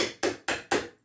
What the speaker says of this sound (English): Will the hammer work?